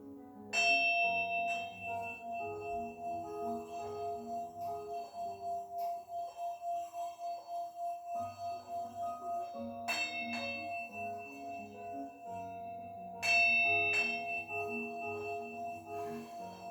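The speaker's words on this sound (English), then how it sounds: "absorb the vibrations of the Tibetan singing bell" A Tibetan singing bowl rings during a chair yoga session with a sustained, shimmering metallic tone that pulses slowly, struck again twice with bright renewed strikes near the end.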